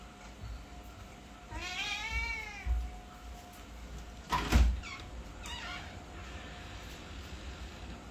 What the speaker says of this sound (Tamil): இந்த பூனை வெளியே போகுதான், திறந்து விடு.